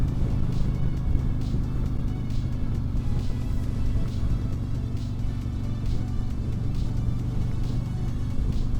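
A 2024 Harley-Davidson Street Glide Special with the 114 engine on the road: a steady, dense low rumble with wind noise, heard from the rider's position, continuous and without talk.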